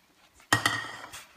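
A utensil knocks and scrapes against a bowl while Nom Gorm batter with sesame seeds is mixed, giving a couple of sharp clinks followed by softer stirring, close and clear.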